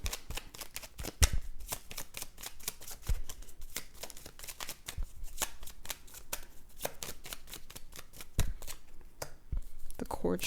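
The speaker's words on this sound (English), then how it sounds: "Let me pull one more card." Tarot cards are shuffled and drawn by hand, with quick close papery riffles and sharp snaps coming in uneven bursts, while a voice speaks at times.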